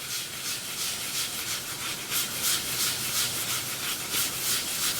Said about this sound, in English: That's the grits in it that are scratching the surface just slightly.